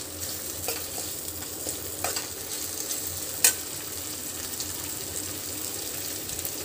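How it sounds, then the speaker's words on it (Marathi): Slit green chillies frying in spiced oil for chana dal give a soft, steady sizzle with a few light utensil taps and one sharp click, close by and without speech. "आपण आता ह्याच्यामध्ये 4 हिरव्या मिरच्या अशा उभ्या कापून टाकायच्या आहेत"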